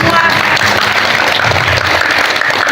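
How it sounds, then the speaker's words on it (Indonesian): At a school event at SMPN 4 Ciamis, the audience applauds the new 2024 student council with dense, sustained applause that stays loud and even throughout, with a faint murmur of voices beneath it. "Beri tepuk tangannya."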